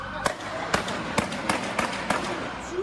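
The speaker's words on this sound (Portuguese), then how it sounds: "O som dos tiros assustou os moradores de Blumenau" Gunfire during a police chase after a gang robbed a pharmacy safe in Blumenau, Santa Catarina: about seven sharp cracks at an uneven beat over a steady noisy background, with a voice faintly present.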